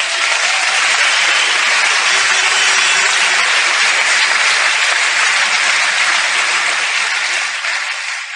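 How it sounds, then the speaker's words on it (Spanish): A large audience gives sustained applause at a stage event, a dense, loud wash of clapping that holds steady for about eight seconds before easing slightly at the end. "pido un aplauso para todos sus diamantes"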